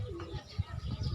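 Golden pigeons on a rooftop loft give low, soft cooing calls in several short pulses, close by, with a few faint chirps above.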